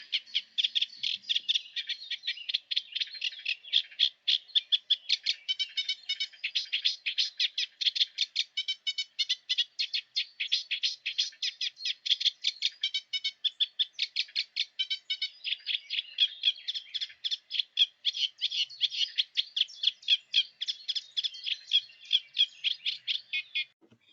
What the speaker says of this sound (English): reed warblers are more steady and rhythmic with more repeated phrases